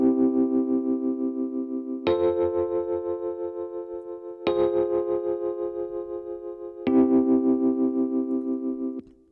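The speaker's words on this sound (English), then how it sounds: "This one's a 1 chord to the 4 chord to the 4 minor to the 1 chord." Sustained distorted synth chords with a chorus effect move through a I–IV–iv–I progression, each chord ringing for about two seconds before a clean change, played alone at moderate volume.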